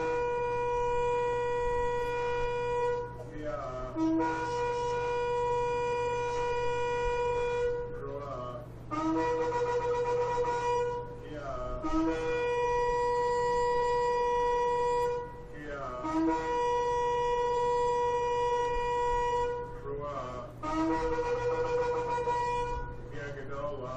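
A series of shofar horn calls, roughly six long brassy blasts, each starting with a rising, wavering attack, loud and near, separated by brief gaps over a constant low background hum.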